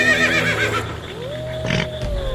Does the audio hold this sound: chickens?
no